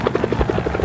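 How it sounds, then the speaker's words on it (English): A helicopter in the video game Tchia flies overhead, its rotor thumping in a fast, steady pulse of about eleven beats in under a second, loud and close with no other sound. "Where was that helicopter at?"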